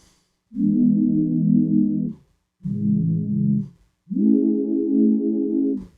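A warm Serum synthesizer pad plays three sustained chords with short gaps between, each swelling in brightness as a filter envelope opens, no voices.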